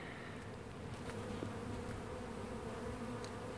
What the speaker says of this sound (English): food for the bees that move into this hive